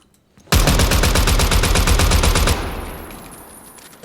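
Sustained automatic gunfire in the video game Zero Hour, a loud, rapid stream of shots fired with the trigger held down for about two seconds, then cutting off into a fading echo and tail.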